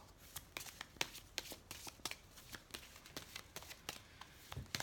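Oracle cards being shuffled for a reading, soft rapid riffling and flicking in quick irregular bursts, close and quiet, with no talk.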